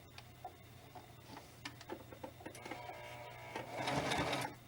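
A sewing machine back stitching fabric for a handmade spirit doll, running in short rhythmic bursts of rapid needle clatter, then a longer, louder continuous run near the end, close up with no talking.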